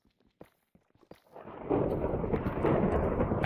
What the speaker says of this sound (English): the thunder's really loud